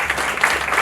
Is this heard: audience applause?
yes